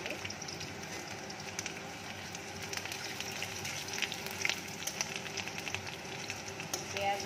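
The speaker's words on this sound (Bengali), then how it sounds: "এখন এর মধ্যে দিয়ে দিচ্ছি কুচানো পেঁয়াজ।" Chopped onion frying in hot mustard oil for a Bengali dal tarka gives off a steady, close sizzle with crackling pops throughout and no talk over it.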